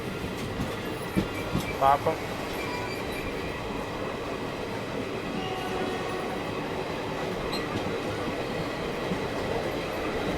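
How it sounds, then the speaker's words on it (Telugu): A passenger train on the Narsapur–Tiruvannamalai route picks up speed, its steady rumble and rolling wheel noise filling the scene with a brief squeal early on, while a voice speaks briefly over it. "ట్రైన్ ఇంకా స్పీడ్ పెంచేసింది"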